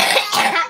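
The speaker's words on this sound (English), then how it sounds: "That cough, baby." A sick child coughs in a quick rough burst, close and fairly loud, trailing off within a second.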